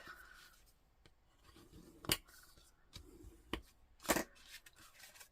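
Card paper for a butterfly easel card being folded and creased by hand, a few sharp crisp snaps and rustles spaced apart over quiet background, close-up with no talking.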